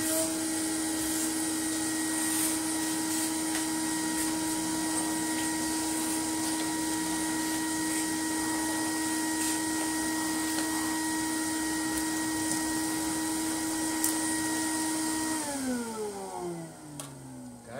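An Electrolux 504 vacuum cleaner runs with a steady, loud motor whine and suction hiss that holds constant, then winds down in pitch as it is switched off near the end.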